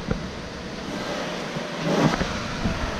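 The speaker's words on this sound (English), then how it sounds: "Run number 1. We're going to see what this thing puts down." A pickup truck on a dyno makes its first full-throttle pull, the engine roaring steadily and building in loudness toward the end, heard alone without talk.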